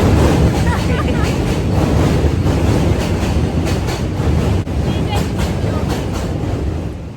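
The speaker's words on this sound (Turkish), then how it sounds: "Yandan metro geçiyor şimdi mesela gürültüsü." A New York City subway train rumbles past nearby, loud and steady, with a rhythmic clickety-clack of wheels on rails throughout.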